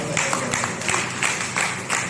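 Applause from an audience welcoming guests on stage at an anniversary award ceremony in a Delhi hall, with dense clapping that swells in several waves over two seconds.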